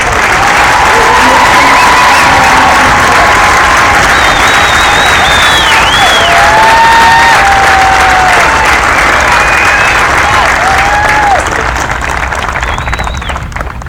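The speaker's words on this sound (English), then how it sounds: "I'd like to raise a round of applause for the MTIs" A large crowd at a U.S. Air Force Basic Military Training graduation applauds and cheers for the MTIs, sustained loud clapping with whistles and shouts running throughout before easing slightly at the end.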